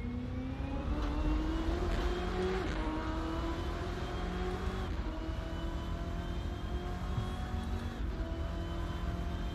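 Race car engine in the racing simulator Assetto Corsa, a loud steady drone with rising pitch as it accelerates through the gears, continuous and close with no talk.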